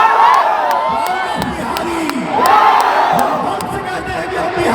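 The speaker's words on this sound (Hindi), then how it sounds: "पवन सिंह के रोड शो में भी ऐसी भीड़ देखने को मिल रही है" A large crowd roars and cheers at Pawan Singh's election road show in Bihar, with loud overlapping shouts and whoops that swell and dip steadily for the whole stretch.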